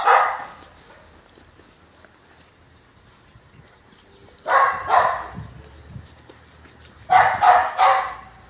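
Dogs at a kennel facility bark in three loud clusters of several barks each, fairly close, with quiet ambient gaps between bursts.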